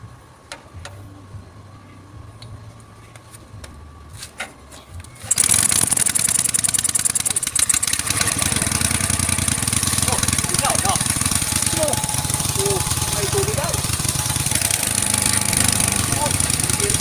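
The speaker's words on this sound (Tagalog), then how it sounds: "Umandar na yung makina natin." Faint sounds give way to a small Robin water pump engine, freshly given a top overhaul, abruptly starting, then running steadily with a loud, buzzing drone that continues unbroken.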